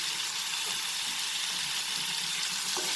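Masala of tomatoes, Kashmiri red chili powder and turmeric for a raw papaya curry sautés in a pan over medium flame, giving a steady, even sizzle with no talking.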